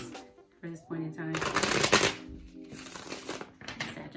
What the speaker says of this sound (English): as I shuffle this